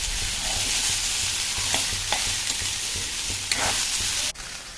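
Bottle gourd and ridge gourd with curry leaves stirred and frying in coconut oil, a steady close sizzle broken by periodic scraping stir strokes and a brief clatter near the end, with no talk.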